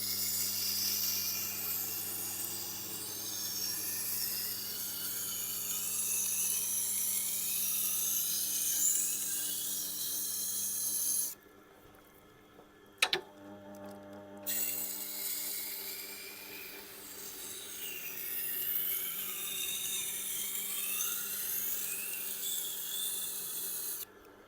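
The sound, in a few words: Miyabi santoku knife smoothed on Tormek 320 grit stone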